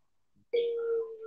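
Telephone call signal: a single steady electronic tone starting abruptly and holding for under a second, fairly faint, with no talk.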